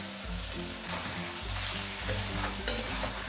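Crushed ginger and garlic with ground coriander and cumin frying in a pan for chicken curry, a steady sizzle with scraping stirring strokes, close and alone.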